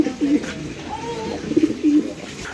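Pigeons kept in pairs for sale on a farm coo in several soft, throaty bursts close by, with faint background noise between calls.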